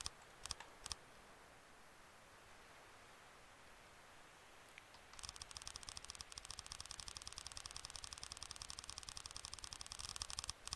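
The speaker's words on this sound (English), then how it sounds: "Really annoying clicking noise." An annoying clicking noise in the From the Depths battleship-building game: after a few isolated clicks over a faint hiss, a rapid, unbroken train of sharp mechanical clicks starts and runs steadily to the end, close and insistent.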